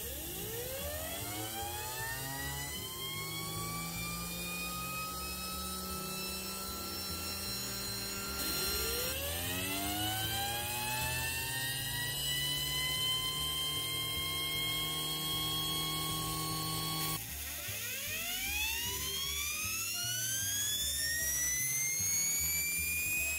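A 3D printed turbine driven by compressed air spins up three times in a row, its whine sweeping steadily upward in pitch each time with a loud, continuous rushing hiss underneath.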